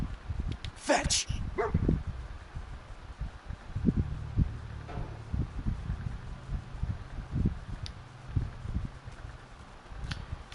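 Dogmeat the dog barking in Fallout 4, a few sharp barks early on, then softer intermittent sounds over a quiet background hum, with voices talking.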